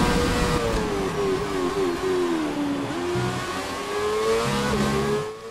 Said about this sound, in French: le moteur Renault qui passe